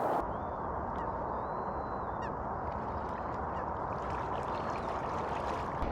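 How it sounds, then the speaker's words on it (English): Geese honk as they fly over, several short calls scattered through the clip above a steady outdoor background hum, faint and from a distance. "wait to see if those geese were going to fly over again, and sure enough they did"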